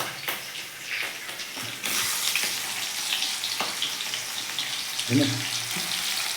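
Chicken sizzles in a pan over steady frying noise, with scraping and stirring bursts and a brief spoken word near the start.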